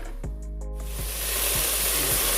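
Jollof rice fries in a pot with a broad, steady sizzle that swells louder and stays dense after a few knocks against the pot at the start.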